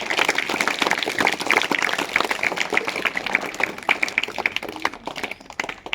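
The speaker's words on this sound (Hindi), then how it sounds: "इन सब के लिए एक बार फिर से तालियां बजाओ।" A school audience gives dense, sustained applause for prize-winning students at a general knowledge and sports competition, with many hands clapping together and fading slightly toward the end.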